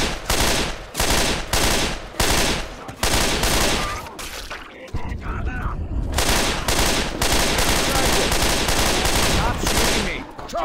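Gunfire rattles in the video game Left 4 Dead 2, with loud, rapid bursts of automatic fire in quick succession, a brief lull near the middle, then sustained shooting again.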